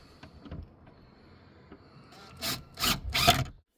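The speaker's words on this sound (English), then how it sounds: "busy sanding the old worktop down" An old wooden worktop is sanded in a campervan build. A few light scratchy rubs come first, then three loud, close rasping strokes in quick succession, with no talking.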